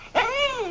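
A dog in a 1948 film growls, a single rising-and-falling throaty vocal lasting under a second, close and clear over faint background hiss with no talk.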